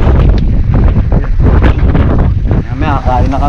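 Strong wind batters the microphone at an outdoor fishing spot outside Metro Manila, a loud continuous roaring buffet throughout, with a voice speaking briefly beneath it.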